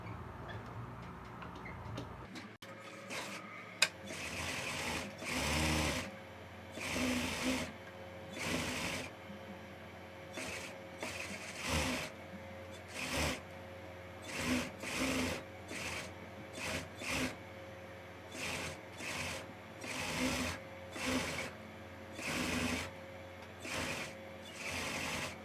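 A sewing machine stitches a lined blouse in many short, stop-start bursts, close and clear, with brief pauses between runs and small handling clicks near the start.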